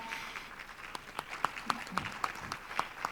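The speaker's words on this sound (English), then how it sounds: "Can we give them a huge round of applause?" Applause from a conference audience for the AV team, moderate and fairly distant, with scattered sharper claps standing out over a diffuse wash.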